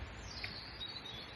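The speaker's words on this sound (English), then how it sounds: "Hear a little robin singing behind." A robin chirps faintly in the distance over a soft, steady outdoor hiss, a brief, delicate phrase of song, in the Holme Valley in autumn.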